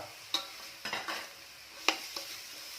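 Quiet pan cooking of long beans stir-frying with pork belly, soft sizzling and a few sharp scraping, stirring clinks at irregular moments, no voices.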